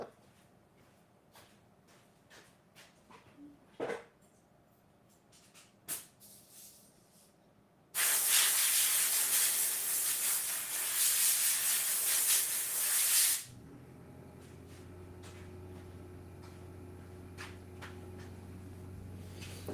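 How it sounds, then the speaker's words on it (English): A blast of compressed air is sprayed over a laser-engraved cork piece, a loud, close hiss lasting about five seconds, preceded by quiet handling clicks and followed by a low machine hum. "Let me go blow this off with some compressed air."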